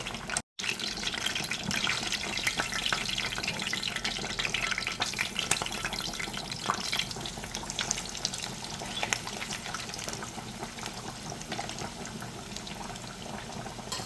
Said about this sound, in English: Right now we're going to start by frying the eggs.